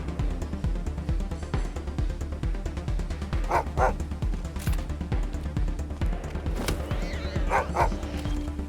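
Within Wasteland 3 gameplay, a dog barks in quick doubled yaps a few times, standing out from a busy, thumping backdrop of game sounds and effects.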